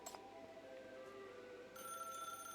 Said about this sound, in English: you hear the high-pitched ring of a phone